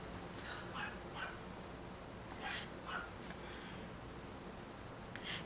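A dog barks a few times in short yips, fairly distant and faint, over a steady background hiss.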